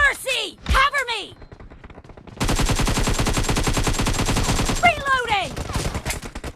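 Sustained automatic gunfire in the mobile shooter BGMI, a dense rapid burst lasting several seconds, with short voice callouts before and after it.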